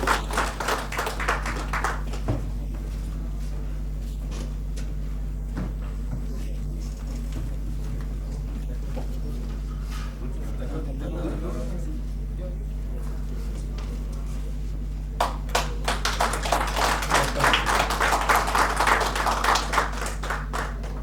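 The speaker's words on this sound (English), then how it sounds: "A huge round of applause for Goenche Fudli Pilgi Khatir." An audience at a Goa NGO meet-up claps for a guest. A burst of applause opens, then fades under quieter stretches with speech, and the clapping swells again, loud and dense, toward the end.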